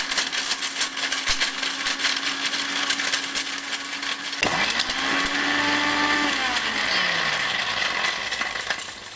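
A Smith mixer grinder blends pieces of tile stone in its jar: a steady motor whine runs first, then a sudden louder surge of grinding, rattling and a rising motor tone takes over and holds to the end.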